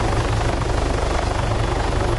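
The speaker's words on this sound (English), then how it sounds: "the helicopter will automatically kick back off and again fly off from the sunset" A helicopter in the video game Arma 3 flies with a steady, loud rotor roar and a rhythmic low thumping that continues throughout, with no speech.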